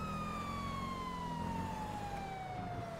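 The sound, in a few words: police car priority siren from video game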